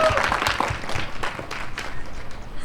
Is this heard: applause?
yes